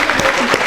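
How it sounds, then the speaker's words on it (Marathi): A short burst of clapping from an audience at a jewellers' lucky draw prize event in Pandharpur, brief and fairly close. "तर या पराडे मॅडम साठी पुन्हा एकदा जोरात टाळ्या वाजव"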